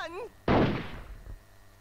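A single loud gunshot or artillery blast from the Hogs of War video game bursts out after a short voiced cry, then rolls off into a decaying rumble.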